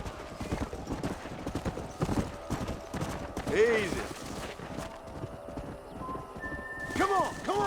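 Horses gallop in the Red Dead Redemption 2 video game, their hooves clattering in a fast, continuous rhythm. Two whinnies rise out of it, and someone speaks briefly over the action.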